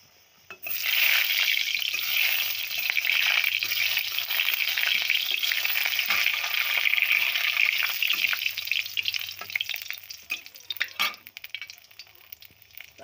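Dry red chillies and nigella seeds fry in hot oil, a steady, close sizzle that flares loudly at first and then crackles on, thinning and sputtering toward the end.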